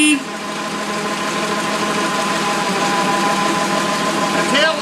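A Ford Model T engine idles steadily nearby with an even, chugging rumble that holds for several seconds.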